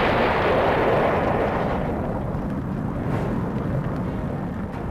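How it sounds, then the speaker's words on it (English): A huge LPG tank car explosion erupts into a fireball, a dense continuous roar of deep rumbling that holds loud and steady throughout with no voices. "The 6-ton tank car in this blast rockets nearly 3/4 of a mile into a field."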